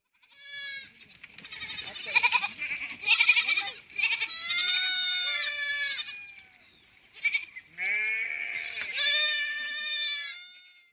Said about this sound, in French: Elle entend ensuite un troupeau qui rentre à l'étable.